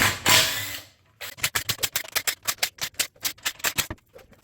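A ratchet wrench loosening 13 mm transmission oil pan bolts on a 1993 Ford Ranger, a short rattly burst followed by a rapid run of sharp, evenly spaced ratcheting clicks up close.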